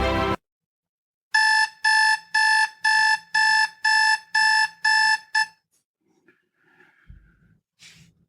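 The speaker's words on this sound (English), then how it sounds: "It's morning, you're cozy in your warm bed, and that damn alarm goes off." A morning alarm clock rings loudly in a run of about eight steady, evenly spaced electronic beeps, then stops, leaving faint rustling and breathing-like noise.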